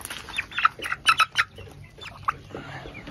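Chickens on a small farm with about twenty two-month-old laying hens give a few short clucks and calls, loudest early on, close by over quiet background.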